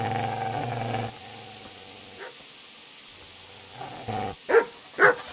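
A dog in a medieval village setting of Kingdom Come Deliverance gives a low growling rumble, then after a quieter stretch lets out several short, loud barks close by.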